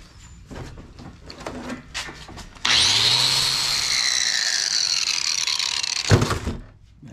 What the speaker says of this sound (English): So let's grind them down.